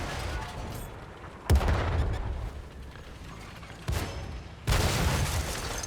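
Tank cannon shots in World of Tanks modern armour, three loud sharp blasts spaced a couple of seconds apart over a steady engine rumble, the last followed by a longer roar.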